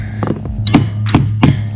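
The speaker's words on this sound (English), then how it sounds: "If you've never used a ratchet for a hammer, don't talk to me." A ratchet wrench is used as a makeshift hammer on a 7/16-inch nut and bolt while repairing a pig-hauling trailer. It strikes four sharp, close metallic knocks at an uneven pace over a steady low hum.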